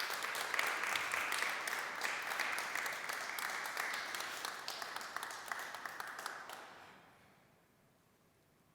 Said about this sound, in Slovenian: In zdaj predlagam zlati aplavz za zlato nagrajenko, docentko doktorico Radojko Kobentar.